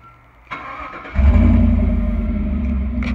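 A click, then a 2018 Chevrolet Silverado pickup engine cranks and catches, settling into a deep, loud, throaty idle with a rumbling Dynomax aftermarket single-side exhaust.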